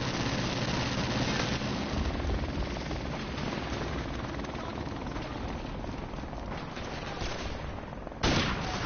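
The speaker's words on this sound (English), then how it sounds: "Oh, freaking helicopter, man." Helicopter rotor thrum in Call of Duty: Modern Warfare Remastered, continuous and loud, mixed with bursts of gunfire throughout and a sharper blast near the end.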